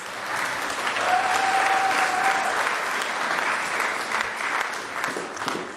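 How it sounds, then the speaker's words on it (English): Steady round of applause from a congregation at a Sunday worship service, even and moderately loud for several seconds, with a brief faint tone heard early on. "Let's give Dana a quick round of applause."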